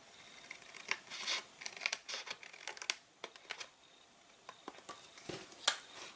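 Card being cut with scissors to make a small box, a quiet, close run of snipping and crisp paper rustles in uneven bursts, with soft handling noises between cuts.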